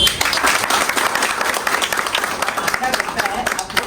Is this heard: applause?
yes